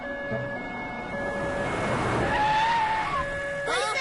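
An ambulance siren wails in the background over traffic rumble, rising and falling tones, with a sharp squeal of tires near the end.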